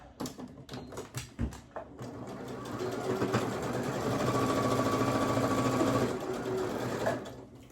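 A sewing machine stitches fabric into a circle for a ruffled shirt, its steady motor whir and rapid needle clatter running continuously at close range after a few brief taps and handling noises, with no talking.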